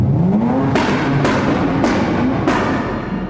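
Rotary-engine car revving hard, a smooth high-pitched whine rising and falling through several quick throttle blips, loud and close with no voices.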